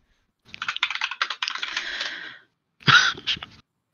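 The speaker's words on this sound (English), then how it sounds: "Frantic typing. I just hear the typing wars." Fast typing on a computer keyboard comes in two close bursts of quick key clicks, a longer flurry followed by a short pause and another quick run.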